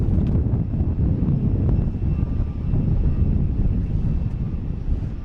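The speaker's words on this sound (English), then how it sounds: "Coming in from Augusta, the Cessna 402." A Cessna 402 arrives at Boston Logan Airport with a steady, loud, broadband engine roar that holds throughout, with no talking.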